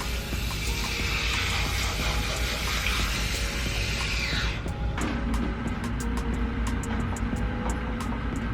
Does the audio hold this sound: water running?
yes